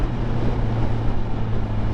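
Honda CBR1000RR motorcycle engine held at a steady, loud drone with a low humming tone, blended with wind rush during a brief throttle blip for a rev-matched downshift.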